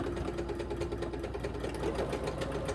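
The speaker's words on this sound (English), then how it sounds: "I'm just going to sew all the way down" A sewing machine stitches along a farmhouse-style fabric journal's D-ring closure, right beside the rings, running with a steady, rapid mechanical hum and fine ticking at moderate volume, alone without talk.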